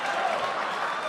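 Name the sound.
crowd clapping at PAX Prime interview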